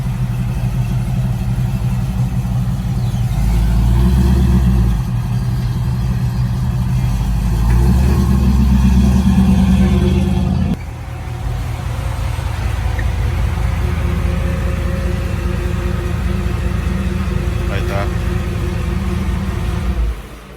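Truck engine on an SS clone running after being started by a Viper remote start, a close, steady low idle with a louder revving stretch early on that drops back to idle.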